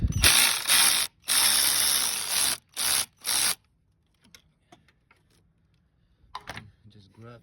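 A hand ratchet clicks in several quick bursts while loosening a bolt on the radiator of a 2014-2019 Chevrolet Impala LT V6, close and loud, followed by near silence and faint handling noises.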